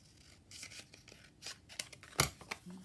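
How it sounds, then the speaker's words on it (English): Scissors cut paper for a junk journal in a series of close, quiet snips and rustles, with one sharper snip near the end. "I just need to cut a bit more off that"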